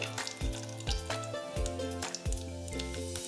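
Whole spices, dried red chillies, cloves, cinnamon, cardamom and black peppercorns, sizzling in melted ghee for a mutton rogan josh tempering, a crackling fizz punctuated by rhythmic thuds and scrapes of stirring, close by under a low hum.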